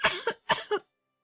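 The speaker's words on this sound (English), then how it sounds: "and I end up coughing" Person coughing from dust kicked up in a sushi restaurant, two quick pairs of harsh, close coughs in rapid succession, followed by silence.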